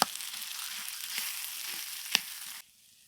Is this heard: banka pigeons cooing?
no